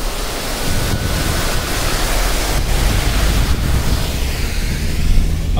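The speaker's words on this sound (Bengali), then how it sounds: "একটা সুন্দর ঝর্ণা এন রুট" Roadside mountain waterfall near Harshil, a loud, steady broadband roar of rushing water with some wind buffeting on the microphone, no voices.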